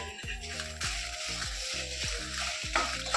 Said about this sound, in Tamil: இந்த எண்ணெய் நல்லா காய்ஞ்சதுக்கு பிறகு இந்த மிளகாயை போட்டு லேசாக ஒரு பரட்டி எடுத்துடணும்.